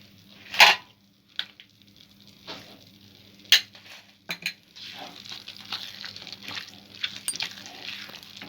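Karachi halwa is stirred and roasted in ghee in a pan, with sharp metal spoon clanks against the pan scattered at irregular intervals, then a softer continuous scraping and faint sizzle as stirring continues, no talk.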